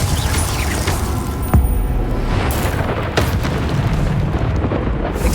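Bombarda spell blasts in Hogwarts Legacy rumble in a thick, continuous roar of combat, with a couple of sharper booms standing out over a steady, loud explosive bed.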